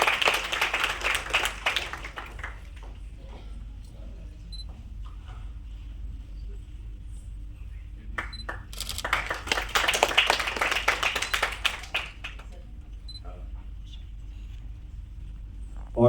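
Audience clapping at an award function, bursts of applause near the start and again midway, moderately loud, with quieter stretches of room murmur between.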